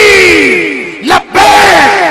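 A religious gathering's crowd roars a takbir response in answer to the call at a Muslim bayan, a loud massed shout of many voices that swells, breaks off briefly, then surges again, close and overwhelming.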